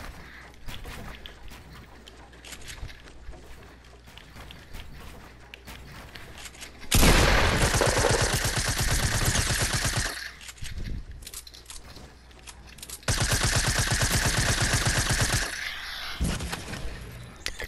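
Fortnite gunfire shoots down builds in two loud sustained bursts of rapid shots, each lasting a few seconds, over a softer game background with quieter activity between them.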